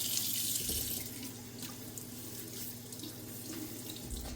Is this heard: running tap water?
yes